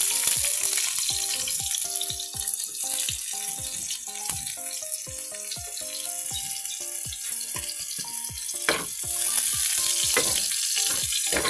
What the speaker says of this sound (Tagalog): So, we're gonna put the garlic. And the onions.